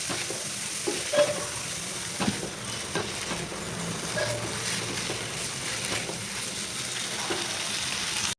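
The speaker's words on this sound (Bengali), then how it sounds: "এবার আমি দিয়ে দিচ্ছি সেদ্ধ করে রাখা গোগুলি। সঙ্গে মশলাটা আরেকটু ভালো করে কষিয়ে নেব।" Spice paste frying in a pan with boiled snails for a village-style snail and poppy seed curry, a continuous sizzle under steady stirring and occasional scrapes, with no talk.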